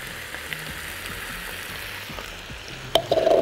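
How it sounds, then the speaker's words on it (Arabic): A pan of tuna and dill pasta sizzles with a steady hiss, then sauce poured in and stirred brings a louder burst of bubbling and scraping at the end. "هننزل بالصوص اللي عملناه"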